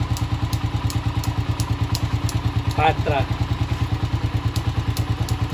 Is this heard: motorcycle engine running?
yes